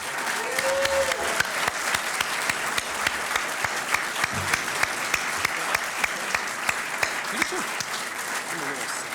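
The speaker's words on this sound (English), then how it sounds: "A rousing round of applause for both of these guys." Audience applause at a Missouri Attorney General candidate forum hosted by the Federalist Society, a steady dense wash of clapping lasting throughout, with a few faint voices underneath.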